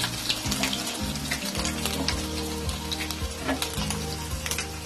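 Onions, garlic mince and a cut chilli frying together in a pan for crispy chilli baby corn, a steady close sizzle with repeated stirring scrapes and knocks, no voices.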